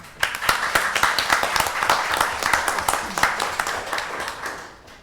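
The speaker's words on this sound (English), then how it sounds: "So I just want to give you a round of applause." Audience applause fills a talk event on the MeToo movement, a dense run of many hands clapping steadily for about five seconds, moderately loud, then tapering off at the end.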